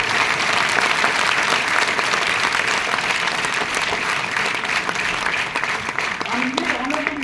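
An audience in an auditorium applauds as a guest stands at a military regiment's talk, sustained loud dense clapping from many hands throughout, with some voices faintly mixed in near the end.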